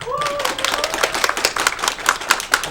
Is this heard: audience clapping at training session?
yes